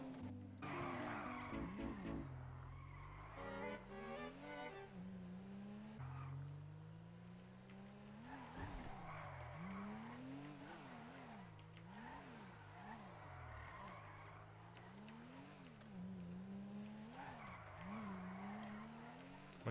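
Nissan GTR in a video game driving with repeated rising and falling engine revs and tire squeal skids, steady and moderately loud, with no talk.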